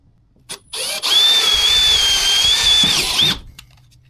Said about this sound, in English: Go ahead and drill a pilot hole.